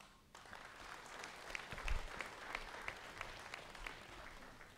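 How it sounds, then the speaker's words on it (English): Audience applauding for two teams at a technical high school debate, a steady wash of clapping with scattered louder claps, filling the room without voices. "a round of applause to the two teams"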